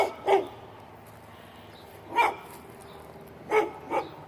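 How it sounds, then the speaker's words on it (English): A neighbor's dog, apparently a pit bull, barking next to a spring garden: four sharp barks spaced over a few seconds, moderately distant and alone against quiet background noise. "Oh, there go my neighbor's dog carrying on."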